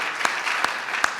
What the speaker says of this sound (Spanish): ¿Puedes darle un aplauso de alabanza a Él?